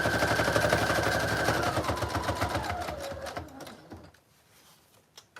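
A sewing machine stitches a journal cover, running in a rapid continuous rattle for about four seconds before slowing and stopping, followed by quieter handling clicks.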